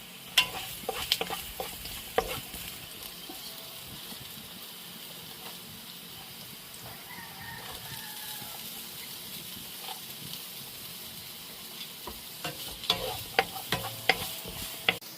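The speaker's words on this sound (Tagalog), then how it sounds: "Igisa ang bawang, sibuyas at luya" Garlic, onion and ginger sautéing in a pan for coconut-milk shrimp with squash and long beans, a soft steady sizzle with scattered stirring scrapes and clinks, busier at the start and end, no talk.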